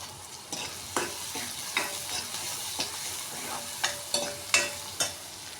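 Onions sautéing with dried red chillies and chana dal in a pan for drumstick-leaf thokku: a soft background sizzle broken by a series of distinct spoon scrapes and stirs, growing more frequent toward the end.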